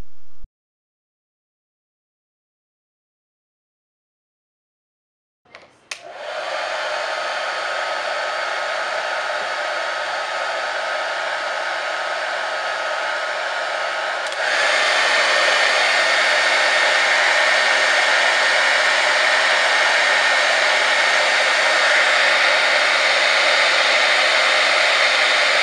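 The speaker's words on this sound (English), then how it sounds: "the hairdryer is creating an airstream of greater velocity" After a few seconds of silence, a hair dryer switches on and blows with a steady whirring hiss, growing louder partway through as it shifts to a higher setting, in a Bernoulli's principle demonstration.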